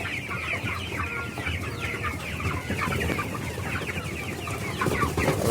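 Tiger chickens on a poultry farm cluck continuously in a busy flock, with many overlapping birds close by and a steady barn murmur underneath.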